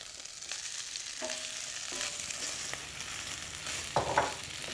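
Lamb frying in a pan with a steady hiss as it is stirred, scraping clatter and a brief louder burst of utensil noise near the end, with no voices.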